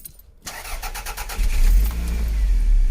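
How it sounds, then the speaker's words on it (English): A Toyota MR2 starts after an exhaust repair: a brief starter crank catches and the engine settles into a steady, close, fairly loud idle. "So now I'm going to start and run it and see how it sounds"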